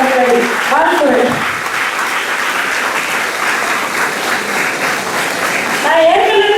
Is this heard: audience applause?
yes